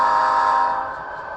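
A model train, locomotive number 97 on a small loft layout, sounds a short horn toot, a bright, steady tone that holds briefly and then fades a little toward the end, with no talking.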